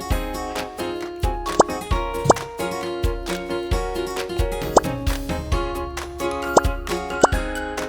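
Borax-free foam slime (bubble clay) dropped box after box into a huge mixing batch of dozens of tubs, making a string of soft, wet plops at irregular intervals over a steady tonal background.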